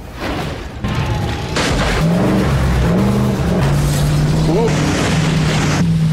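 An off-road Jeep fitted with ORO SwayLoc sway bars revs hard nearby, its engine note climbing and holding loud with thumps and clatter from the park, while voices shout over it.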